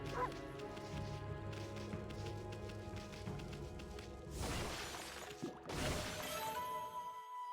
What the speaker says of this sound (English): I'll bark at it.